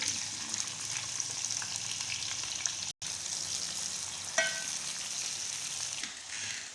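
Onions fry in hot oil in a cooking pot, giving a steady, bright sizzle with occasional stirring clinks and crackles.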